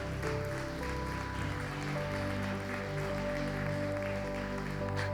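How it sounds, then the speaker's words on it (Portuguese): Congregation clapping along during worship in church, a steady continuous wash of hand claps mixed with music and sustained tones, fairly loud throughout. "Louve o Senhor com as suas palmas, irmão."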